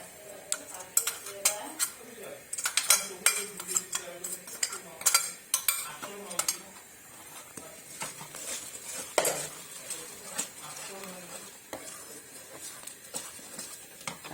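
Paste being stirred into hot milk in a kadai for homemade kulfi, with repeated near scraping and clinking of a spoon against the metal pan and a soft simmer beneath, while a voice talks intermittently.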